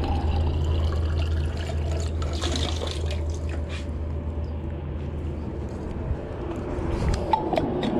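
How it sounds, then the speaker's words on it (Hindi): Water is poured into a bottle at a roadside fuel stop, a steady close splashing and gurgling fill over a low engine hum. "मैं बोतल में पानी डाल रहा हूँ"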